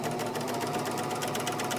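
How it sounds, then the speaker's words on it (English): Bernina L450/L460 serger overlocker stitching and cutting a scrap of corduroy, a steady fast mechanical whirring hum with rapid needle clatter, continuous and close. "I'd just like to show you how the sewing machine stitches"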